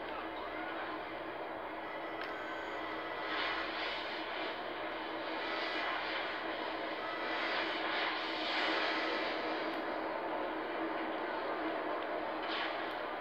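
Jet fighter engine roaring steadily as it takes off in GTA Online, a loud sustained broadband rush that swells slightly midway, with game chatter faintly mixed in.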